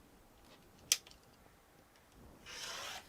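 A rotary cutter rolls through fabric along a ruler while a beginner zipper pouch is sewn: a sharp click, then a short, quiet, close rasping stroke at the end.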